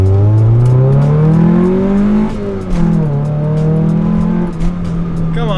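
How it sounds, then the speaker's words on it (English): An Acura Integra B18 four-cylinder engine with an exhaust leak revs loudly and close, its pitch climbing and falling over a few throttle sweeps in a rough, raspy drone. "That's a good sounding 4-cylinder."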